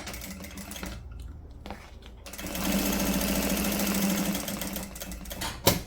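A sewing machine runs a seam with a short burst of fast, even stitching after quieter handling noises, ending with a sharp click.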